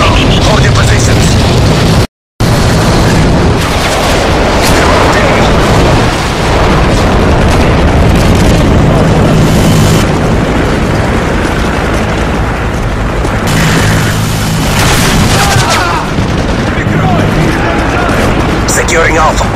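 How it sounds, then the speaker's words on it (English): Repeated heavy booms and explosions from Predator missile strikes in a Domination match of a military shooter video game, loud and continuous over rumbling battle noise, with game announcer voices heard throughout. "Friendly Predator missile inbound."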